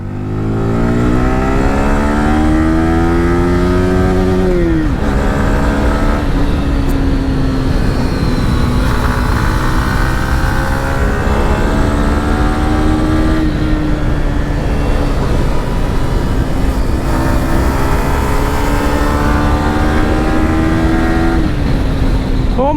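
A Yamaha R15 V4 motorcycle is ridden hard, its engine loud and close as it revs up through several gear changes and drops back between shifts, with no talk over it.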